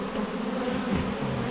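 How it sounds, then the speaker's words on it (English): An opened beehive full of agitated honeybees gives off a steady, dense, loud buzzing drone, close by and unbroken throughout. "the bees are definitely telling me they don't appreciate their home being pulled apart"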